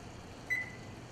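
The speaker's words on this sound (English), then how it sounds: "We're going to go ahead and set the timer for 5 minutes." Kitchen timer being set for five minutes gives one short, clear electronic beep, close and brief against a faint steady hum.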